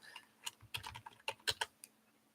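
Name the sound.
typing on a computer keyboard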